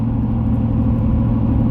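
Steady low engine and road rumble from inside a high-mileage pickup truck with 205,000 miles on a long solo drive, constant and close with no talk.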